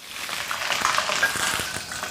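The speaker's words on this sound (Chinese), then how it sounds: "猪油炒化之后，先下姜葱" Ginger and scallion fry in melted lard in a wok, giving a soft, steady sizzle with faint stirring scrapes, close and even throughout.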